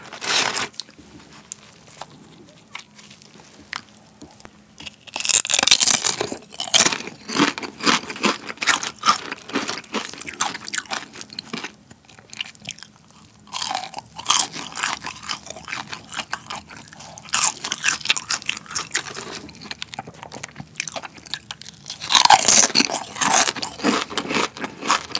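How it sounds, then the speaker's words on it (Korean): Crunchy potato chips served with honey combo fried chicken are bitten and chewed up close, with loud crisp crunching bursts and quieter chewing between them. "감자 먼저 먹어도 될까요?"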